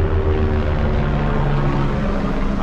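A helicopter flies near the Kedarnath trekking route in the mountains, giving a loud, steady droning engine roar with a low throbbing rotor hum that holds evenly throughout.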